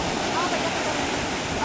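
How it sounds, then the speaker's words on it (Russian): Ocean waves roar as a continuous, loud, broadband wash of surf, close and steady throughout the short stretch. "Там-то страшно, такие волны, страшно."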